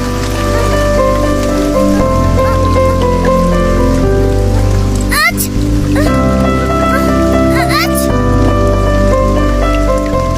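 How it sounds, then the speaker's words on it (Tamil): Heavy rain pours steadily in an animated scene, a dense, even hiss of drops on surfaces lasting throughout, with a soft music bed underneath and a couple of brief swishing accents. "மழை வேற அதிகமா பெய்யுது"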